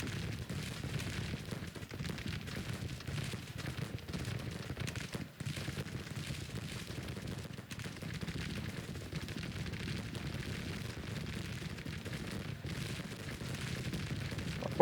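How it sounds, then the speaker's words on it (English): Continuous dense battle gunfire rolls on for the whole stretch in Grand Tactician: The Civil War, a steady low rumble of massed musketry and machine gun fire with occasional heavier booms, no speech over it. "the machine gun fire on the south is beginning to do what I need it to do"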